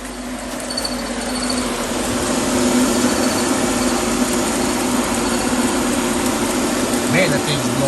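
An aftermarket electric cooling fan in a third-generation Chevy Camaro spins up and settles into a steady, loud whooshing roar with a faint hum beneath, running continuously.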